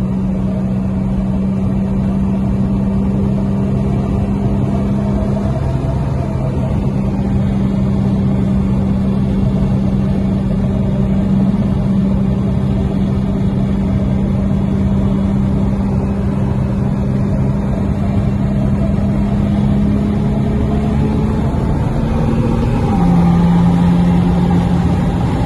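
Infiniti Q50 Silver Sport with a full bolt-on exhaust cruising at night, a steady loud engine drone holding a constant pitch with a brief shift near the end, no voices.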